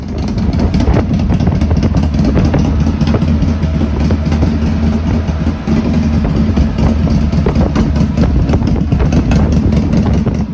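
An Indian Scout Sixty motorcycle with a 120HP build and a Fuel Moto tune runs up close, its engine thumping loudly and steadily with a dense, throbbing exhaust note and no talk.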